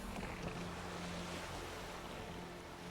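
A boat sails across foggy open water in The Witcher 3, a continuous wash of waves, rushing water and wind noise with a low hum underneath, faint and even throughout.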